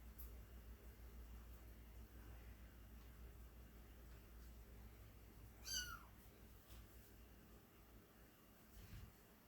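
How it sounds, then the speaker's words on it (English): A single high, thin Bengal kitten meow rises faintly over a steady hiss of background noise, with a softer mew or two near the end. "Sorry, I got baby kitties below me."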